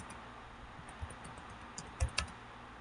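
Light keystrokes on a computer keyboard while configuring a Debian server, soft irregular taps with a few louder clicks near the end, close and quiet, no talk.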